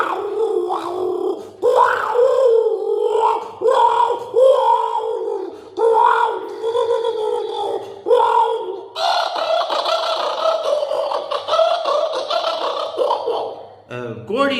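A performer imitates a kookaburra's laughing call with a close, loud voice. Rhythmic cackling bursts repeat every couple of seconds, then rise into a higher, continuous chattering run before stopping abruptly.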